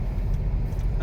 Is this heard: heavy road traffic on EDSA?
yes